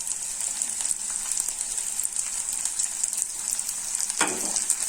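Green chilies and chopped ginger frying in hot oil for poori masala, a steady close sizzle with a brief burst of stirring near the end.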